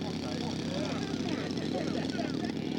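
A radio-controlled scale model airplane comes in for a landing at an Oregon air park, its propeller engine a steady, fairly loud drone filling the whole stretch.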